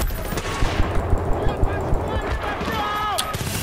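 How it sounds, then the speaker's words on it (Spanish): Distinct gunshots fire in a quick irregular series in the video game Battlefield: Bad Company 2, loud and punchy, over a busy background with some muffled voice. "He visto tiros, ahí, que no me gustan."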